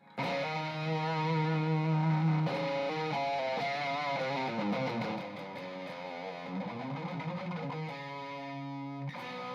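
Electric guitar played through a cranked Plexi amp with a low-cut boost, giving a thick, saturated Brown Sound tone; sustained distorted chords and bends ring out loud and alone, with no talking.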